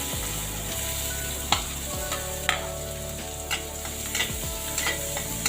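Garlic, ginger, chili paste and onion frying in a pan for white sauce Maggi noodles, a continuous crackling sizzle with several sharp utensil knocks and a low cooktop hum underneath.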